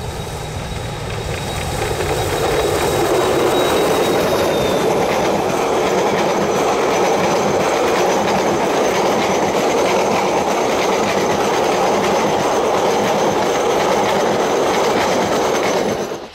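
Steam locomotive JA 1271 hauls a train on a repositioning run near the Mission Bush steel mill, Auckland. A loud, steady rolling roar of wagons with clattering wheels and a faint squeal carries on throughout, with no voices.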